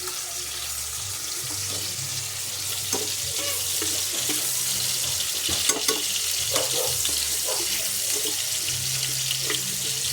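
Garlic fries in a pan for adobo, a loud close sizzle holding steady with scattered clicks and scrapes of stirring, and no talk over it.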